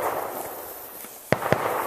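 A small mini cannon fires after its fuse is lit, giving two sharp, close pops about a fifth of a second apart over a steady outdoor hiss of background noise.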